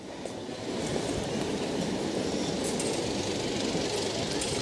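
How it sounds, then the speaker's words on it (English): A Melbourne D-class tram moves through Flinders Street Station, its low rolling rumble and light rail clatter swelling in at the start and then holding steady at moderate distance. "It's a D-class tram."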